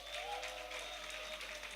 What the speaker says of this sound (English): make a loud applause. Don't just shout alone. A loud applause for the Sultan Bello Hall.